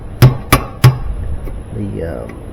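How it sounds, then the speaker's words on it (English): Three sharp metallic hammer strikes on a screwdriver in quick succession while removing a seal from an old Whirlpool washer, followed by faint scraping and shuffling sounds nearby. "I don't want to beat on the screwdriver too much with a hammer"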